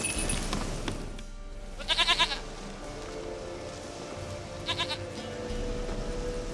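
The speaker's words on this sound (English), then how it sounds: "sweetest goat." Goat bleating in The Witcher 3: Wild Hunt, two short wavering bleats about three seconds apart over a steady game ambience, fairly close and clear.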